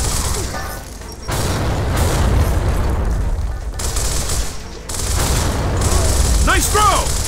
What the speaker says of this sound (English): Get a frag in there!